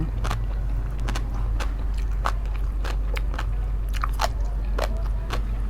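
Raw krachiao shoots are bitten and chewed up close, producing repeated sharp crunches and crisp snaps over a low steady background hum.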